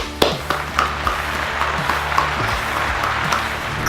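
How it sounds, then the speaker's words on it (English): A small audience applauds for the star of a show, a thin scattering of claps with a few sharp distinct hits over a steady low hum. "Let's give a big round of applause to the star of the show"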